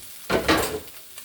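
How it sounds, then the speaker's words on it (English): Spam sizzling in a pan as it fries for a simple ration meal, two short bursts of hiss and scraping like the pieces being stirred or turned, close and fairly loud with no voices. "add that Spam. Let it fry up a little bit on the side"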